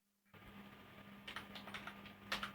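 Python code is typed on a computer keyboard in a quiet room, producing a short run of faint, irregular key clicks that start after a brief silence and continue in small clustered taps.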